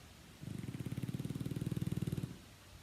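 Bulldog snoring close by, a quiet rapid rhythmic rasp of many short pulses lasting about two seconds against a still room.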